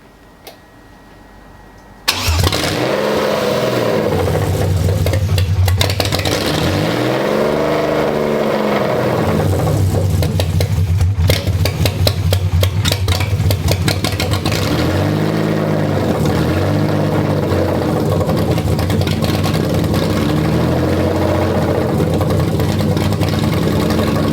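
A BMW E30 cranks briefly, catches and settles into a steady, loud idle, with the revs rising and falling in a few slow swells before holding even.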